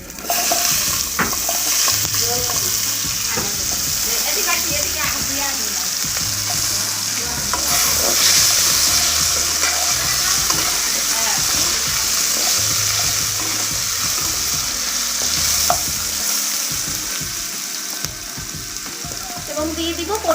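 Potatoes drop into a hot frying pan for a vegetarian paneer and pointed gourd curry, a loud, close, continuous sizzle broken by occasional stirring clatter.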